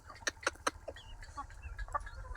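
Chickens cluck in short sharp bursts at a village poultry farm in Soupadu, several close calls in quick succession and then softer scattered clucks over a low rumble.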